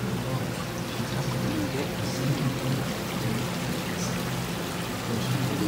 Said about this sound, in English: This is just like a replica of how the water flows on Niagara Falls.